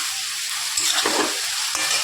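Doi potol curry, pointed gourd in a yogurt gravy, is stirred in a pan. A steady low sizzle runs throughout, with a couple of soft scraping strokes around the middle and no talking.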